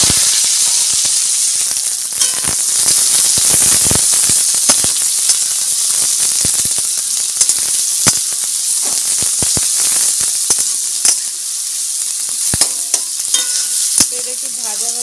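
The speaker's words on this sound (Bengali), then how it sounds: "এটা একটু ভাজা ভাজা হোক" Sliced onion and green chili frying in hot white oil in a wok give off a loud, constant sizzle, broken by frequent sharp crackles and scrapes of a spatula stirring close up.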